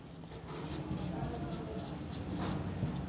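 Pen scratching on paper while writing out logarithm values by hand for a class 9 math exercise, a steady close rasping stroke sound continuing throughout with faint voice underneath.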